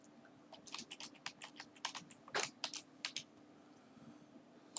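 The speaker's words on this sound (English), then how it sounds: "I'll just put in the password once." Quick, close keystrokes on a computer keyboard as a password is entered, about a dozen soft taps in an uneven burst, fairly faint against quiet room tone.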